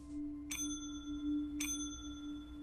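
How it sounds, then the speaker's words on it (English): A rusty counter bell is struck twice, a second apart. Each strike gives a bright, ringing ding that decays slowly over a faint steady hum. "He rang the bell a couple of times"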